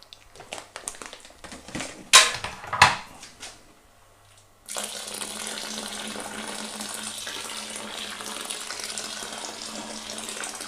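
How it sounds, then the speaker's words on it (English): Clattering and splashing first, then a steady stream of boiling water pouring continuously from a kettle into a bucket, close and fairly loud. "I'm going to add the remainder of the kettle full of boiling water to this now."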